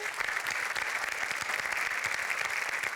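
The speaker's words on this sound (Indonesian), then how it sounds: "Tepuk tangannya boleh." Dense, steady audience applause fills the whole stretch at a Q&A event, loud and continuous with no pauses and no talk over it.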